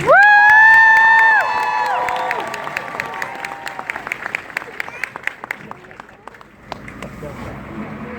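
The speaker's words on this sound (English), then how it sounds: "let's give one last round of applause to today's warriors" Crowd at a military family day at Fort Jackson, South Carolina: a loud, sustained whistle-like tone opens, then scattered applause and cheering with children's shouts follow, thinning into sparse claps.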